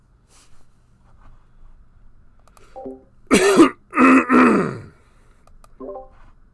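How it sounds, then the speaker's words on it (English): Someone nearby clears their throat in two or three harsh, rasping bursts, followed by a short grunt, then quiet. "Sorry, I had to clear my throat there."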